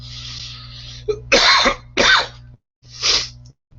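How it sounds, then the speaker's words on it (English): A person coughs several times in quick succession, close by, with rough throaty bursts over a low background hum. "I don't know why it makes me cough"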